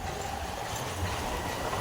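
A train passes on the tracks beside a road, a steady low rumble with faint rhythmic rail noise heard from some distance, continuous throughout and without talk.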